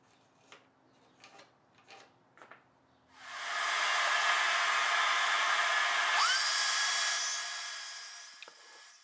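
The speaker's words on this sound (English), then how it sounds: "Now I made my half lap joints using my radial arm saw." A radial arm saw cuts half lap joints in wooden cross members. A few light clicks and knocks come first, then a loud, close, continuous whining roar of the cut lasts about five seconds before fading out.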